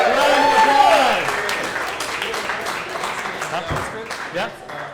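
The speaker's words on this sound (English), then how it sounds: "So give yourselves a big round of applause." Audience at a 2015 town hall applauding the Fringe class of 2015: dense, steady clapping from a crowd with a few voices calling out over it, loudest at the start and slowly thinning.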